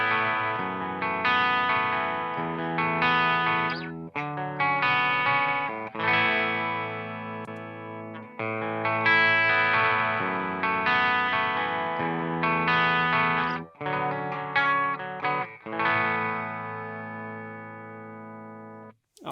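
An electric guitar plays through a Victory Jack MKII tube amp on its Mark II voicing with chorus, strummed chords ringing out in bursts with brief pauses, close, full and slightly shimmering, with no talking.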